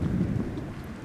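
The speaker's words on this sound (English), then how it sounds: "Thunderstorm going on outside." Thunderstorm raging outside a house in the video game Skyrim, a low continuous rumble of thunder with rain hiss, heard alone for a brief moment.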